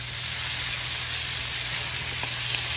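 Small shrimp sizzle in a hot pan as they are blackened, a steady, close, hissing fry with no pauses throughout.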